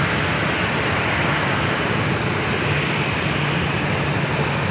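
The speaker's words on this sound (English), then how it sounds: "Followed by a Gulfstream coming in from Cabo." Gulfstream business jet arriving at San Diego airport, a broad steady roar of engine noise that stays level and fairly loud throughout, with no voices.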